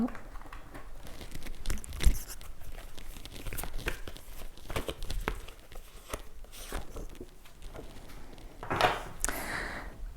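An oracle card is drawn from a deck, with quiet papery rustles, crinkles and a few sharp flicks of card stock scattered through a soft, near setting.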